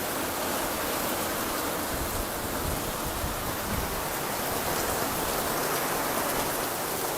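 Steady rain falls outdoors, a dense, even hiss of drops hitting surfaces all around. It stays constant and unbroken throughout with no talking.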